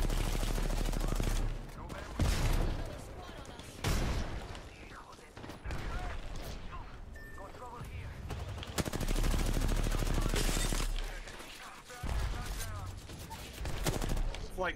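Rapid automatic gunfire in the video game Apex Legends, loud and close, with long sustained bursts broken by short pauses and a voice talking over the shooting.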